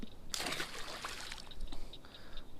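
A bass tossed back into a pond lands with a sudden splash, followed by brief trickling and sloshing of water in the shallows close by, with no talking.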